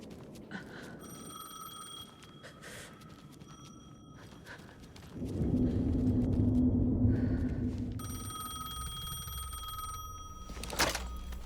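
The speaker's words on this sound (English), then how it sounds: "The phone again." A telephone rings in Alan Wake II, bright repeated electronic rings arriving in separate bursts, with a low rumbling ambience swelling midway between them and no voices.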